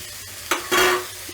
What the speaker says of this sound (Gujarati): આપણે એમાં કોબીને ગાજર જે કાઢ્યું હતું એ આપણે એડ કરી દઈશું